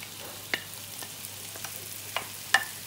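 Onion and green chilli filling for fish patties sautéing in a pan, a faint continuous sizzle with a few light spatula taps and scrapes, close and quiet, no voices.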